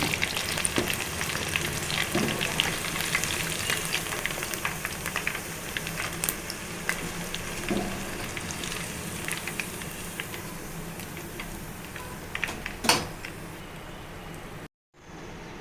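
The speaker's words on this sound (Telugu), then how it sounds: "ఇంకే 1/2 కేజీ ఆయిల్ పోసాను, 1/2 లీటరు. ఫ్రై అవ్వాలండి." Chicken pakodi fries in about half a litre of oil, giving a steady close sizzle with crackling pops and occasional stirring clatter, ending with a brief cut to silence.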